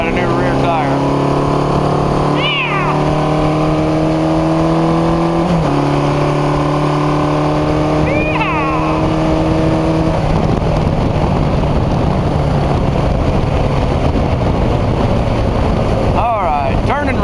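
Motorcycle engine running on a road after a new rear tire was fitted, steady close drone with gear shifts stepping the pitch down, wind noise throughout and no talk.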